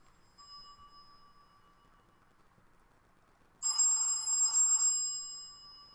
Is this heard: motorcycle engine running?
no